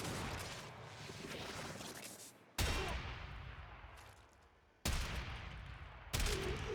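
Three heavy Hek shotgun blasts in a Warframe-style shooter, each a sudden loud crack with a long decaying roar, spaced about two seconds apart.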